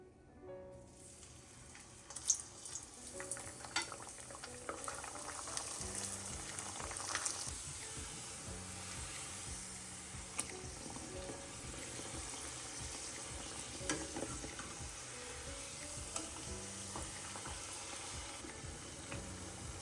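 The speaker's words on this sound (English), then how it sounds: "Now I'm gonna get ready to fry them." Chicken sopes frying in hot oil, a steady broad sizzle running throughout with occasional louder crackles and pops, close and alone without talk.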